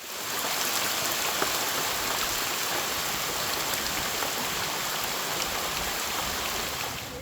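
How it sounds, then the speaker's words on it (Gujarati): Heavy monsoon rain pours down in Talala and Sutrapada, Gujarat, India, in a dense, steady hiss with no break, loud and close. "તાલાલા સૂત્રાપાડામાં ભારે વરસાદ વરસ્યો।"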